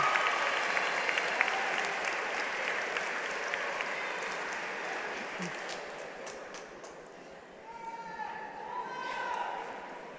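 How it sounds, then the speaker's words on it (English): Sustained applause from a large audience at a spring 2019 NC State College of Education graduation ceremony, dense clapping over the whole stretch with a few voices and whoops rising near the end. "give a huge round of applause to those who supported you and stood beside you, thick and thin"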